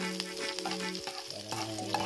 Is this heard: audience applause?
no